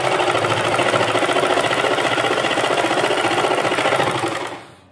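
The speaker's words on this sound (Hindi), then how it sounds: "ये सिलाई हम नीचे वाले कपड़े पे लगाएंगे" A sewing machine stitches trouser fabric in a fast, steady, buzzing run, loud and close, then winds down and stops at the end.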